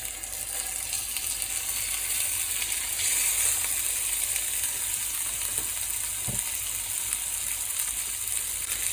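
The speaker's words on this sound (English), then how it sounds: "lamb chops seasoned just before we go in the pan" Thick seasoned lamb chops sizzle steadily in olive oil in a hot pan, a constant bright frying hiss with a small clunk partway through and no talking.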